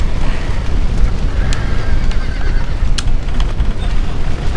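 A horse whinnies amid wind and hoofbeat-like clatter in the video game Red Dead Redemption, the neigh rising loudly over a dense, noisy outdoor game soundscape, with no speech.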